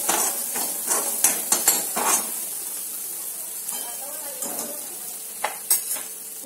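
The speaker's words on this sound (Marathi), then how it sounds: "हे मसाले तेलात चांगले होऊ द्यायचे." Garam masala and coriander powder frying in oil in a pan give a bright, close sizzle, broken by repeated scraping and clinking stirs of a utensil against the pan. The stirring comes in bursts, then eases to a quieter hiss.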